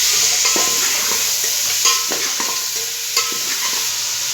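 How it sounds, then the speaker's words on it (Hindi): Tomatoes and browned onions are stirred in a sizzling frying pan for chicken neck pulao, with a steady frying hiss and a repeated scrape and clack of the spoon against the pan, close and alone. "अब इसको अच्छे तरीके से आपने मिक्स कर"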